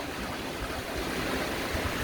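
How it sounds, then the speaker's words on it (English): The Siachen River rushes below a bridge in Nubra Valley, Ladakh, a steady broadband roar of flowing water mixed with wind, continuous and fairly loud, with no talk. "down is the Siachen River"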